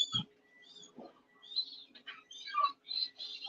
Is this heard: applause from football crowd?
no